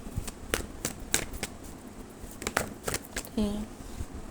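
Tarot cards are shuffled in quick, crisp riffles and flicks, close and fairly quiet, with a voice briefly speaking over them.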